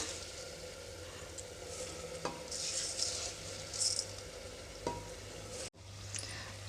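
Washed rice being stirred into fried masala in a pan for paneer masala rice, a close, continuous sizzle broken by several scraping strokes and soft clicks of a spoon against the pan, with no voices.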